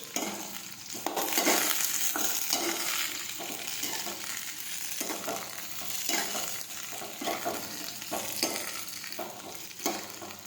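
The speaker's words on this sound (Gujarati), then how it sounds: "હવે આપણે તેમાં રાઈ અને જીરું નાખીશું. સમારેલું ભીંડું નાખીશું. હવે આપણે સાતળી લઈશું." Chopped okra sizzles in hot oil with mustard seeds and cumin, a continuous close crackling fry broken by the scrape of stirring in the pan, with no speech.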